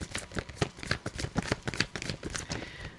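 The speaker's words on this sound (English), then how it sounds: "as you hear me shuffling the cards like crazy here" A deck of cards shuffled rapidly and repeatedly, giving a dense run of close, crisp riffling bursts with no talk over them.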